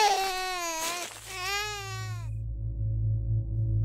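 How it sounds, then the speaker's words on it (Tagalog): A baby's crying in a dramatized horror story comes as two long, wailing cries with a brief break between them, loud and close, then fades to a low hum. "Paglapit ng anak ay narinig na rin niya ang iyak"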